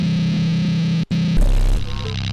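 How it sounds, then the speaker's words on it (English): Heavily distorted, bit-crushed synth built from a sine wave, swept by phasers into a harsh, buzzing, atonal drone, loud and continuous, with a brief dropout near the middle and a deeper, grittier tone afterward. "It's just a shit ton of bit crushing and phasers and more distortion."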